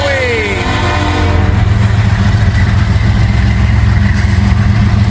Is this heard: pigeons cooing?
no